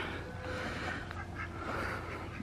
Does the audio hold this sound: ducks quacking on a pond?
yes